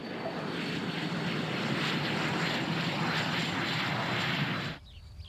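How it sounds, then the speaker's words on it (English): Replica of a German WWII fighter plane with its engine running steadily and loud, a continuous propeller-engine roar that holds for several seconds and then drops off sharply near the end. "This is the fighter plane that could have changed the course of history."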